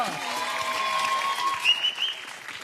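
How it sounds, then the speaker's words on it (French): An audience claps for a contestant on a French TV challenge show, a moderate, continuous patter of many hands sitting under bright, sustained tonal sounds like music or whistling that rise in pitch near the end. "Ah oui, on applaudit, s'il vous plaît, bien fort."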